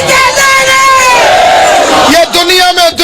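Loud crowd chanting slogans in unison at a majlis gathering in Multan, with a lead voice calling and many voices answering in long sustained shouts, close and forceful.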